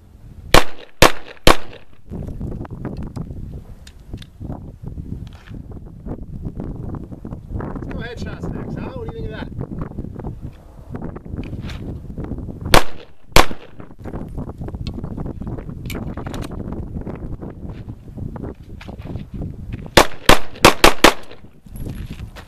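A gray-framed Lipsey's exclusive Glock 19 pistol fires outdoors in loud, sharp shots, first a quick cluster, then two single shots, then a rapid string at the end, with wind noise and talking in the gaps.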